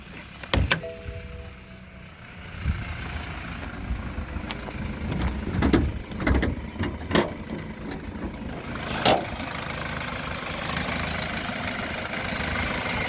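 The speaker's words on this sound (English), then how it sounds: "There's your 4-cylinder turbo. Engine sounds the way it's supposed to sound." A 2013 BMW 28i xDrive SUV with a 4-cylinder turbo engine idles steadily under an open hood, a low continuous hum broken by a few sharp clicks and knocks, with no voices.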